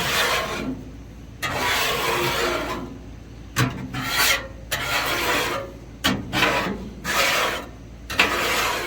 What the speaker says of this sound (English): Just gonna get my small scraper. Scrape that down like so.